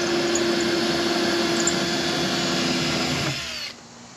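A power drill runs steadily through a boat transom plate during a small jon boat transom replacement, a loud continuous whine with a low rumble that holds for over three seconds and then stops abruptly, with no talking.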